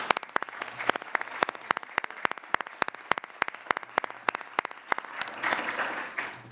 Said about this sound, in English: join me in a round of applause to our distinguished